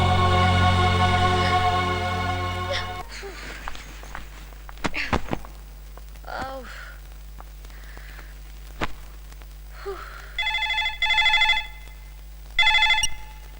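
Landline telephone ringing: a loud electronic ring at first, then quiet movement sounds and footsteps, then three more shorter rings, fainter and farther off.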